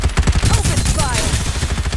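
Rapid automatic gunfire in Farlight 84 rattles loud and close, a fast burst of shots at the start trailing into game effects.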